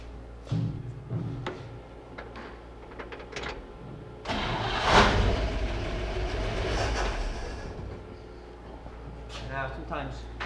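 An old car engine cranks over for several seconds while someone tries to start it without it catching, with people talking nearby before and after.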